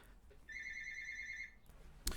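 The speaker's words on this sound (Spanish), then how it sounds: "Perdón, sonó el teléfono." A telephone rings once in a steady electronic burst lasting about a second. Quiet room tone surrounds it, and a sharp thump follows at the end.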